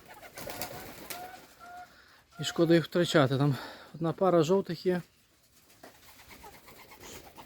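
Soft pigeon coos sound in the background, partly covered by a person talking in the middle of the clip.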